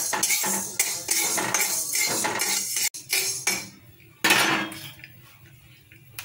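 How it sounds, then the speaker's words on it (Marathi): Fifty grams of sorghum (jowar) grains dry roasting in a pan for Diwali chakli flour, giving a busy, continuous rattle and scrape of grains and a metal utensil against the pan, with two brief pauses. "आता ही ज्वारी आहे, 50 ग्राम ज्वारी आहे, भाजून घेऊया।"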